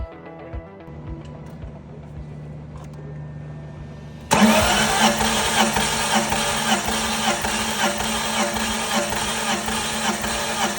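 A BMW engine with no compression cranks during a compression test, a quiet hum followed by a sudden, steady, loud whirring drone that runs to the end.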